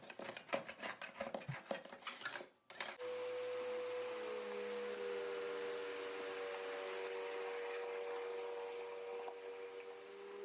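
Vacuum cleaner picking up scraped silicone debris from a rotted wooden window sill, starting after a burst of scraping clatter and then running loud and steady with a constant whine for the rest of the time.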